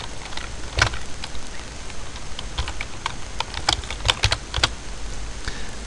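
Typing on a computer keyboard while writing HTML, with scattered clicky keystrokes in short irregular bursts at close range and no talking.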